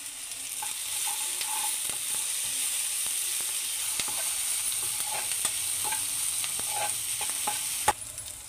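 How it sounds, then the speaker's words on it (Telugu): Onions and green chillies fried in a pan for dhaba-style dal tadka sizzle steadily while a spoon stirs them, with soft scraping and faint clicks throughout and one sharper knock near the end. "ఆనియన్స్ ప్లస్ పచ్చిమిర్చి వేసాం కదా ఇలానే కలుపుతూ ఉండాలి."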